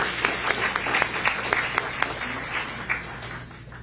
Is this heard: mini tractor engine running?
no